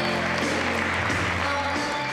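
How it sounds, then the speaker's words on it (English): Loud, dense applause from a crowd, steady and sustained throughout with no pauses. "The applause rings loud."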